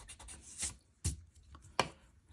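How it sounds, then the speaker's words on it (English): Eraser rubbing on paper over a pencil drawing, a few short scratchy strokes in quick bursts, close and quiet. "Let me erase this."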